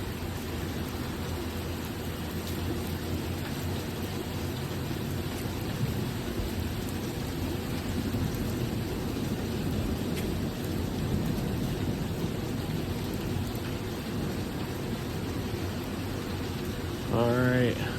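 A thunderstorm in Milwaukee County brings steady, dense rain with low rolling thunder rumbling continuously beneath it, fairly loud throughout, with a short burst of extra noise near the end.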